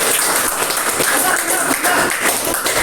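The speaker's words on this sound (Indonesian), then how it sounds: "Beri tepuk tangan untuk temannya." Classmates in a classroom give a round of applause, a steady, lively patter of many hands clapping close by for the whole stretch, with voices mixed in underneath.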